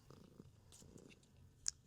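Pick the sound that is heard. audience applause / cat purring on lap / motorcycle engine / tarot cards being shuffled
cat purring on lap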